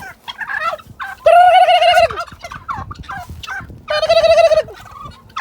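Turkeys gobble loudly and close by in two long rattling calls, with softer clucks and chatter from the flock in the gaps.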